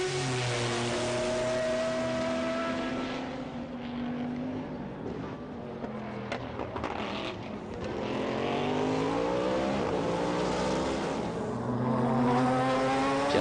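BMW race car at the 1999 24 Hours of Le Mans, its engine droning steadily with shifting pitch and harmonics, rising and falling as cars pass, continuous and fairly loud with no talk.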